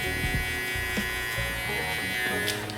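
Hair clippers buzz steadily and close up while cutting hair during a mid taper fade, a continuous electric hum with small shifts in tone as the blades move through the hair.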